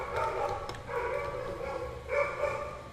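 A dog barks indoors in a home, two drawn-out barks about two seconds apart, moderately loud and fairly close, with no talking.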